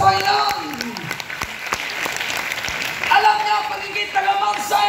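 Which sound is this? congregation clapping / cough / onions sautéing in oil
congregation clapping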